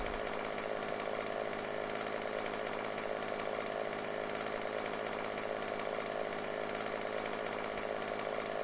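Chainsaw cutting down a tree in the farming video game Landwirtschafts-Simulator 17, a loud continuous buzzing engine drone that holds a steady, dense roar throughout without pauses or voices.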